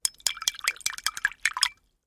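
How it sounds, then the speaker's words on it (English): Rapid small splashes and clinks of a brush swished in a water jar, a quick irregular run of wet taps that stops abruptly. "those were the sounds of a paintbrush being dipped in water"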